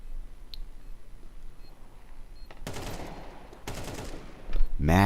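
Bursts of gunfire in the game Counter-Strike during a competitive LAN playoff match, a couple of broadband shots around the middle and a louder burst near the end over a low game ambience.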